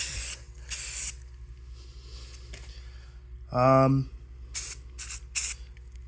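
Several short bursts of aerosol spray hissing with pauses between them, plus a brief squeaky tone partway through and faint voices in the background.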